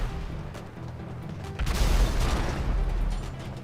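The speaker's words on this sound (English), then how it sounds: "Yeah, I know those explosions are probably really loud for the game on here." Explosions in GTA Online boom in a muffled burst about halfway through, a deep rumbling blast that swells and lingers over quieter game sound.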